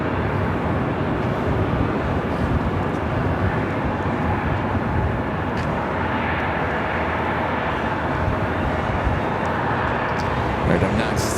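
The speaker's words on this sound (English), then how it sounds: "Qantas Flight 11 coming in from Sydney, Australia, the A380 Super" Qantas Airbus A380 airliner arriving at Los Angeles International Airport from Sydney, a loud continuous jet engine roar with wind noise, someone talking over it.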